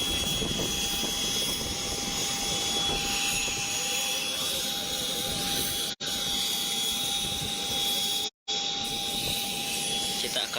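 A loud, steady aircraft engine roars close by with no pause while a police chief patient is moved from an ambulance into a plane bound for Jakarta, broken only by two brief dropouts.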